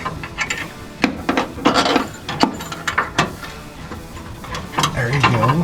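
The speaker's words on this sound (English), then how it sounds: "I'm going to take this bolt and fish it through that eyelet" Metal bolt and hardware clink and scrape during work on a 2022 Chevy 2500HD air suspension, as a bolt is fed through an eyelet; close, irregular rattling knocks and scrapes with no speech.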